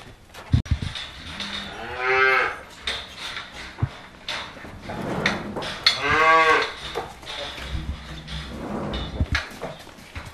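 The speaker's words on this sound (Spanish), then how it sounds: "ya tenemos ahí las novillas entrando. Se cuela también una vaca adulta." Heifers and an adult cow moo loudly as they enter a livestock market pen, with two long drawn-out calls standing out over a steady background of shuffling hooves, gate rattles and yard noise.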